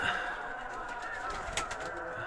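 Dönek tumbler pigeons in a coop coo softly against a steady background hiss, with faint scattered rustles and a brief flutter-like burst midway.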